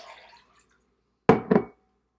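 Water is poured out of a measuring cup in a brief splashing gush with two quick surges, close and fairly loud, followed by silence.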